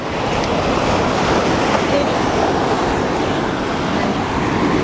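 Ocean waves wash steadily onto a Hawaiian beach in a continuous, loud roar of surf with wind mixed in, and no clear voices above it.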